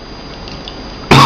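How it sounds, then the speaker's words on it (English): A single loud, harsh cough from someone reviewing a Bandai Metal Build Freedom Gundam figure, bursting out abruptly at the end after near silence. "pardon my cough"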